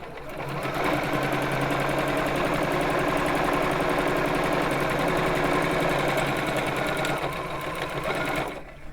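A sewing machine stitches a quilted flying geese pillow in a fast, even mechanical clatter that runs steadily for about eight seconds and then stops, close and alone.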